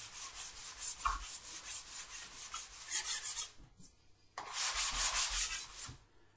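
Sandpaper rubs back and forth across a wood surface by hand in rapid, even strokes, close and clear, with a brief pause midway before the scratchy rhythm resumes.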